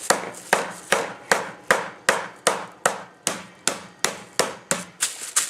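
A meat hammer pounds pork for schnitzel in a kitchen, fourteen sharp, evenly spaced thumps in steady rhythm, close and loud with no talking.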